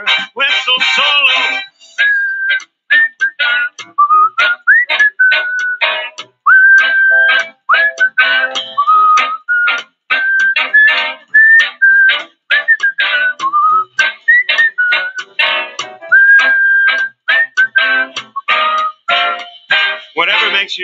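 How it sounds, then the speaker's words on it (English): A person whistles a solo melody alone, a long run of short, clear notes and held tones in a bouncy, uneven rhythm, loud and close throughout. "Whistle solo."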